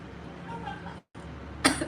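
A single short cough bursts out near the end, following a brief stretch of quiet background and a moment of silence.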